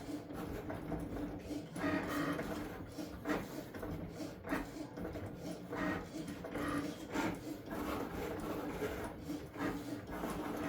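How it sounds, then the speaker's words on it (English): A Cricut Maker 4 cutting machine runs nearby, a continuous mechanical whirring and rasping with rhythmic surges as the carriage moves back and forth, steady and moderately loud with no talk. "the Maker 4 is just finishing up"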